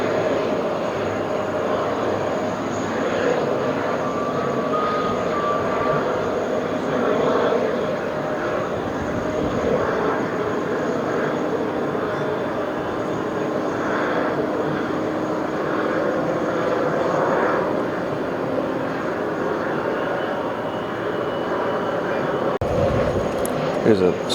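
A Boeing airliner jet at JFK airport, near the TWA Hotel, gives off a steady, continuous roar of engine noise with a broad rushing texture that holds level throughout.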